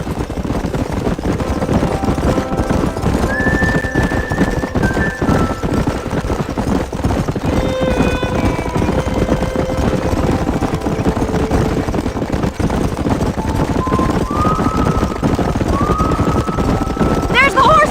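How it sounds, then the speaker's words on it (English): Horses in the Red Dead Redemption video game clop steadily along under a constant wash of ambient noise, with occasional thin tonal calls rising over the hoofbeats. "There's the horses!"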